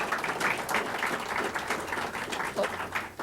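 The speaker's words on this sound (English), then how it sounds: "let's give one round of applause for all the hard work" Applause at a police swearing-in ceremony for newly sworn officers, a moderate round of clapping from a gathered audience that runs throughout.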